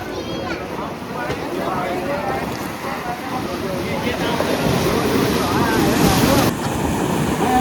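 Sea waves at Dwarka surge and crash onto the shore in a continuous loud wash of surf, with wind buffeting the microphone and a voice speaking over it.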